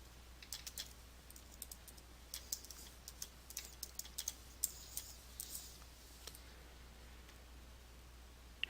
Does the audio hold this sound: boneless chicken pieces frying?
no